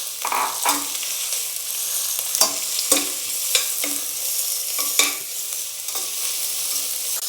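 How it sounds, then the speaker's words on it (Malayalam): Chopped onions sauté in a pan for a Kerala-style chicken stew, a soft steady sizzle broken by sharp scraping stirs that come at irregular intervals, close up with no voices. "ഇനി നമുക്ക് സവാള അരിഞ്ഞു വെച്ചിരിക്കുന്ന സവാളയിലിട്ട് വഴറ്റിയെടുക്കാം."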